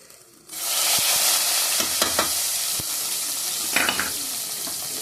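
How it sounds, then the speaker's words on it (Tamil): Oil sizzles loudly in a pan as spices are tossed in for tempering a South Indian kootu, a steady hiss with a few clicks and stirring scrapes. "இந்த தாளிப்பை வந்து நாம் கூட்டில் ஆட் பண்ணிக்கிறோம்."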